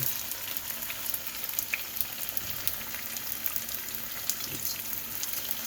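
Zucchini and onion hiss in a hot pan in a steady, even sizzle that stays fairly loud and close throughout, with light crackles and a few faint stirring touches.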